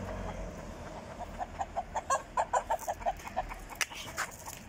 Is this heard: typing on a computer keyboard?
no